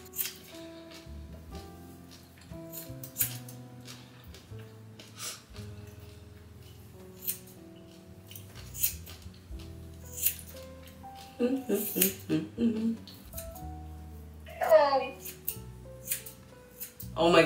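Scissors snip through hair as someone cuts their own, including the hard-to-reach back; soft, irregular close clicks and rattles, denser toward the end, with no talking.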